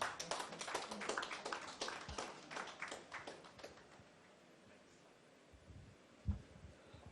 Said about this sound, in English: A big round of applause for Kamal.